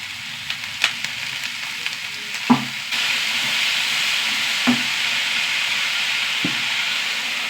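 Long-sliced brinjal hits a hot oiled pan seasoned with chilli powder, bursting into a loud, steady sizzle that fills the space, with a few sharp clatters of pieces landing and stirring beneath the continuous frying hiss.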